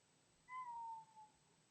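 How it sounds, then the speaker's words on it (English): A pet cat gives one short, fairly close meow with a slight falling tail, then a softer follow-up sound, in an otherwise quiet room. "that was my kitty"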